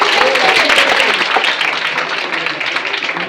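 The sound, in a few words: applause at college teacher's day ceremony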